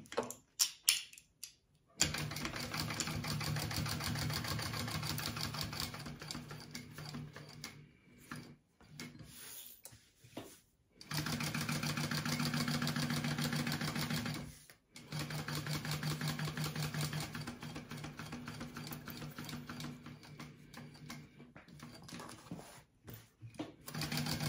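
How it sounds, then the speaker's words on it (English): A sewing machine stitches a wallet in steady mechanical runs with several short pauses, running down a bottom edge and back up a side, close and moderately loud with no talking. "I'm going to stitch down across the bottom and back up the side to stitch this into place."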